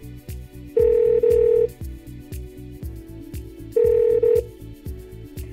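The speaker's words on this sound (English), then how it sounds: "Calling Jamie." An outgoing phone call ringing through a Google Home speaker, two double-pulse ringback tones sounding clearly over a steady rhythmic background tapping, with no speech.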